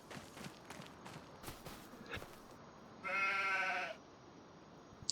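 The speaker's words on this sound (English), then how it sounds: "They're doing their sheepy thing." A sheep in the Farming Simulator video game gives a single clear bleat lasting about a second, preceded by soft, scattered footstep-like clicks at moderate loudness.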